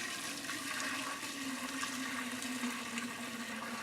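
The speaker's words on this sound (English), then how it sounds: "So I'm going to strain it through a very fine sieve" Homemade chicken soup broth is poured and strained through a very fine sieve, a steady rushing trickle of liquid heard close up and alone for a few seconds.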